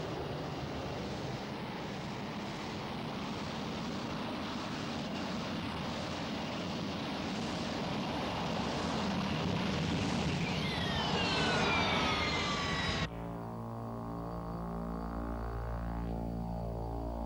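A military jet roars past with afterburning turbofan engines, a broad rumbling and rushing roar that builds and sweeps in pitch over more than ten seconds before cutting off abruptly into a steady droning hum.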